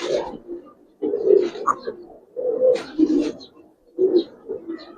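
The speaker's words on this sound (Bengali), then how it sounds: "এটা নটটা এটা মাদিটা দুইটা কবুতর দেখেন" Two khaki Giribaz pigeons, a male and a female, coo close by in repeated soft, throaty bursts with short pauses between them.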